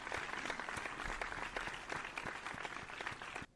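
Steady round of applause from a crowd in the Honkai Star Rail game, a dense continuous clatter of many clapping hands lasting several seconds before cutting off abruptly.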